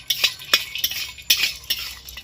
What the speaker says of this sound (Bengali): এটাকে ভেজে নেব ড্রাই রোস্ট নাকি হ্যাঁ একটু হালকা করে নেড়ে ফেড়ে নেব